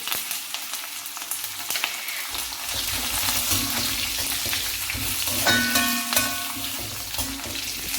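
Whole spices, cinnamon, cumin and cloves, frying in hot oil for a Kerala-style chicken curry: a loud, continuous crackling sizzle that swells and spits more strongly partway through, with occasional utensil clinks and no speech.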